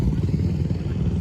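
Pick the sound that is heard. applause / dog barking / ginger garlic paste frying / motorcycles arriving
motorcycles arriving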